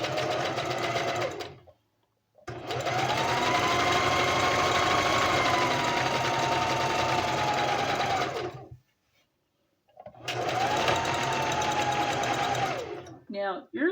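A sewing machine back stitching seams on coveralls, running in two long close bursts with a brief stop between, with a steady motor whine and no talk over it.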